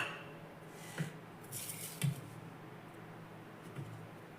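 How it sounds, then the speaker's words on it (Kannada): Soft ground paste for Ugadi bevu bella is scooped from a grinder jar onto a plate, with a few light clinks of a spoon against metal and quiet scraping close by. "ಇದನ್ನು ಒಂದು ಪ್ಲೇಟಿಗೆ ತೆಗೆದಿಟ್ಕೊಳ್ತಾ ಇದ್ದೀನಿ."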